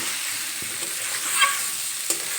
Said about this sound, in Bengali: মসুর ডাল অ্যাড করে দিয়েছি এখন একটু নেড়ে চেড়ে নেবো